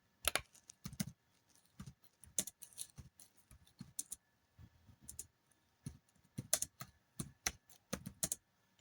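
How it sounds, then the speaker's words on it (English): Keyboard typing: bursts of crisp, close key clicks in uneven clusters separated by short pauses, quiet overall and with no speech. "Let me try to type it in like this."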